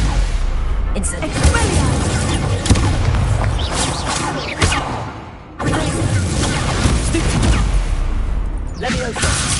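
Crackling fire-spell bursts and impacts from the Incendio charm in Hogwarts Legacy, loud and dense with repeated blasts and a brief drop in sound midway, while a voice calls out spell names over the action.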